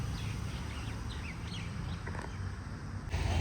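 Faint chirps and short bird calls on a morning at Sheetal Kund in Bengal, scattered over a steady background hum of distant road traffic, with a brief louder rumble near the end.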